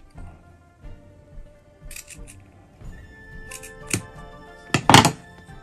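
Scissors snip through scraps of fabric during a no-sew ornament craft, a few soft, sparse cuts followed by a couple of sharper, louder snips near the end, close to the microphone.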